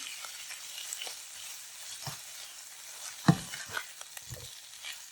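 Vegetables for a frittata sizzle quietly in a 12-inch skillet while tomato is stirred in, producing a soft frying hiss with a few sharp scrapes and knocks of the spoon against the pan.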